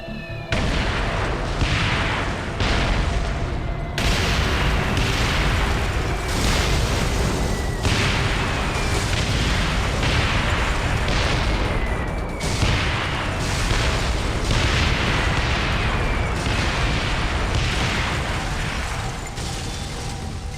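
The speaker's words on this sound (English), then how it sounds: "AC-130 is clear for airstrikes." AC-130 airstrike explosions in Devil's Third, a continuous barrage of loud booming blasts repeating every second or two over a dense rumble for about twenty seconds.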